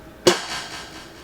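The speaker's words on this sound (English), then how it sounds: "I added this last snare," A single sharp snare drum hit from a hip-hop beat, with a delay tail echoing and fading after the crack, alone with no talk.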